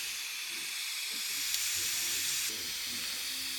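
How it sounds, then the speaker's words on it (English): Steam hisses out steadily from the release valve of a Ninja Foodi pressure cooker during a one-pot rigatoni, a loud continuous bright rush that swells slightly midway and holds. "I went ahead and released the steam."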